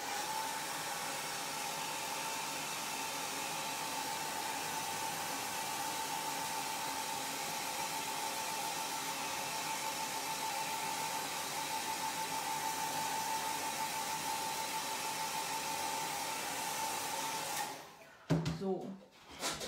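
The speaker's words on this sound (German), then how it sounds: "weshalb man nicht föhnen sollte, wenn es so nass ist" A hair dryer blows steadily and loudly over wet watercolor paint on a sketchbook page of autumn apples, then cuts off near the end with a few handling knocks.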